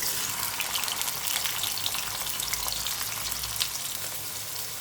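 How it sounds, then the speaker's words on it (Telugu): Onion and green chillies fry in hot oil in a kadai, giving a steady, dense sizzle with faint crackles throughout, close and alone with no talking. "ఇదిగోండి ఉల్లిపాయ పచ్చిమిరపకాయ వేగుతుంది."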